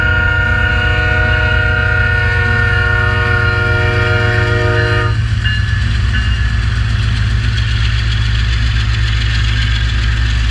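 CP Rail locomotive 8936 leaving the city through a level crossing, its horn blaring loud and close with rich chords before cutting off midway, leaving the heavy rumble and clatter of the moving train.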